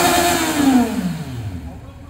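A single motorcycle engine revs up sharply then winds down, its pitch falling away over a couple of seconds.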